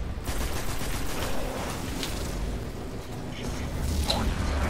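Steady gunfire in Destiny: Rise of Iron, a dense and continuous crackle of shots with a few sharper bangs rising above it.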